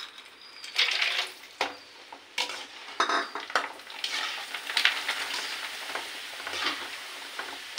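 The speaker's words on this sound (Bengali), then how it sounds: "এবারে ভাজবো এইগুলো।" Chips frying in hot oil, a bubbling sizzle broken by repeated clinks and scrapes of a utensil against the pan, irregular and close, with no voices.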